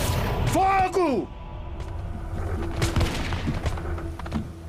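A shouted command is followed by a ragged musket volley fired by rebels at Lexington in the American Revolution, with loud crackling shots and echoing thumps trailing off.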